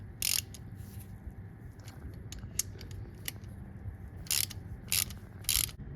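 A ratchet wrench is used to remove nuts from a damaged hub flange stud on a Toyota Land Cruiser 100 Series, giving a few quick bursts of clicking amid quiet workshop noise.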